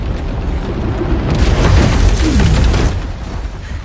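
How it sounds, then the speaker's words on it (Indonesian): A deep landmine explosion boom swells and rumbles loudly, then slowly fades, with a rolling low roar trailing off. "Smith langsung meledakkan ranjaunya yang seketika menghancurkan Kesko"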